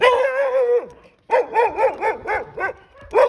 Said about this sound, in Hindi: मेरे पीछे कुत्ता लग गया